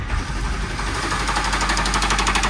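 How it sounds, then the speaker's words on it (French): Nissan Patrol pickup engine idling with a knock suspected from the crankshaft or a piston pin, a rapid, even clattering pulse over a low rumble, close and loud. "le moteur il claque"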